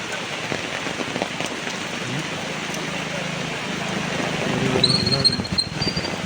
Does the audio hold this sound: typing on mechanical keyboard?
no